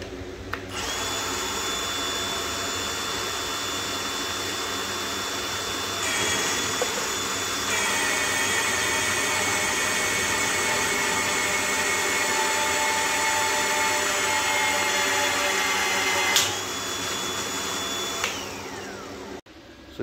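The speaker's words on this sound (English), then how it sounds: "Took a hole saw on a bit extender, drill bit extender, and I drilled a hole down in there." A power drill fitted with a hole saw on a bit extender whines steadily for the whole stretch, its pitch shifting as the cutter bites, a loud continuous grinding drone with no talking; work on a landscape trailer rebuild.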